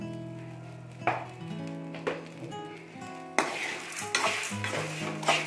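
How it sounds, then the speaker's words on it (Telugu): Spice powder for pulihora is being dry-roasted with salt in a pan, with scraping stirs and soft sizzling coming in uneven strokes, close and fairly quiet, and no talking. "ఇలా వేయించుకోవాలి."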